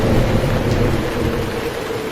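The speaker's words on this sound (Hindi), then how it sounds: "आसमान में अचानक काले घने बादल छा गए और तेज मूसलाधार बारिश शुरू" Heavy torrential rain pours in a dense, unbroken roar from dark storm clouds, with low rumbling thunder blended into the steady downpour throughout.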